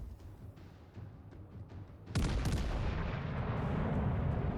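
Naval artillery in World of Warships Legends: after a quiet stretch of distant rumbling, a heavy salvo erupts suddenly and keeps booming, a loud sustained roar of big guns rolling into one another.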